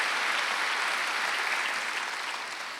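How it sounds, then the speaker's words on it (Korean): A church congregation during a Wednesday worship service breaks into brief, dense applause, steady and fairly loud, fading slightly as it ends. "박수 한번 쳐주세요."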